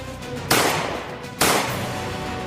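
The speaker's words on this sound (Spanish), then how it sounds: "Una emboscada a balazos contra un bus en plena ruta." Two sharp, loud gunshot-like bangs about a second apart during an armed ambush on a bus, each followed by a sustained noisy wash under a steady background.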